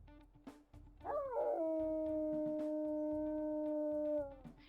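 A wolf in the video game WolfQuest lets out one long howl that starts with a wavering rise, then holds a steady, slightly falling tone before cutting off.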